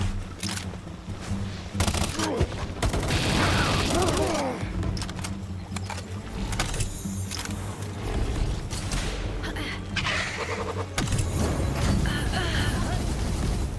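Gunfire in the Palworld Tides of Terraria video game, with dense bursts of shots and crashes through much of the stretch over a loud, busy game soundscape.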